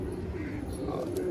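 Soft, low cooing of a male pigeon murmurs steadily throughout, fairly close, with faint background noise and no clear talking.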